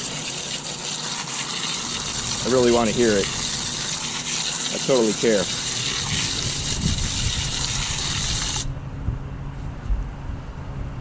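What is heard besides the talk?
water poured in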